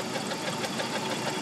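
A 1998 Jeep Wrangler TJ engine running with a suspected lifter tick or knock, giving a steady mechanical clatter over a mid-pitched engine hum, close and constant.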